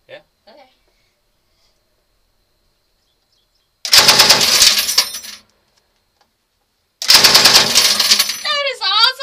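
A vehicle-mounted gun on a British Fox recon tank fires two short, loud bursts separated by a few seconds of quiet, with a few faint sounds just before and people talking right after the second burst.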